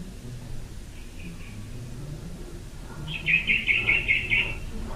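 A bird calls near a cemetery: a few faint distant chirps, then a clear, rapid series of six or seven bright notes over a low rumble of background noise.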